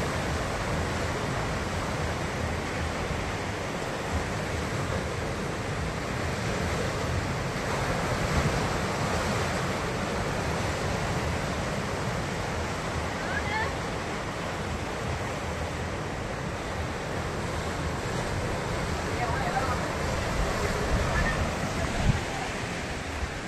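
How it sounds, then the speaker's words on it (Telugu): Ocean waves wash steadily onto a beach at Gokarna in Karnataka, a continuous broad surf roar with gentle swells and some wind buffeting the microphone, no voices heard. "ఓన్లీ ఆ అలల సౌండ్ మాత్రమే వినపడుతుంది మాకు."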